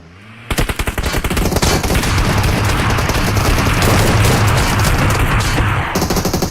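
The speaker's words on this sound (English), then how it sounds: "Shotgun" Dense gunfire in the battle royale video game PUBG Mobile during a tournament grand final: a loud, rapid, continuous barrage of shots lasting several seconds, with booming impacts layered under it.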